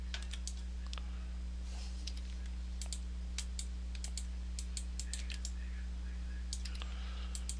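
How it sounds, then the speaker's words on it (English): A computer mouse gives many sharp single clicks in uneven bursts while terrain is sculpted in CryEngine 3 SDK, faint and near over a steady low electrical hum. "Now I find it best to do a lot of single clicking back and forth."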